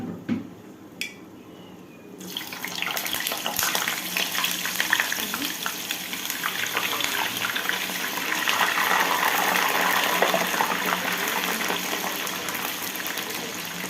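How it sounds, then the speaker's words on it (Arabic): Potatoes are frying in hot oil for a Ramadan meal after rice has been fried. Two light clicks come first, then a loud, continuous sizzle with crackling that holds steady to the end. "سبت الزيت يحمر براحته"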